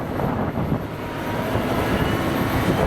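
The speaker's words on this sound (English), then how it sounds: "So this machine is equipped with a 230 6-cylinder Cummins engine," A JCB machine with a 230 six-cylinder Cummins engine runs at a silage clamp demonstration, giving a loud, steady, broadband diesel roar throughout, close by and unbroken.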